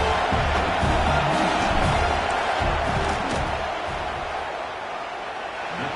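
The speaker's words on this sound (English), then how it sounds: "This crowd trying to do its part to get inside the kicker's head." A packed stadium crowd roars loudly and continuously as the field goal unit lines up at a Penn State versus Texas A&M football game. The dense wall of noise eases slightly toward the end.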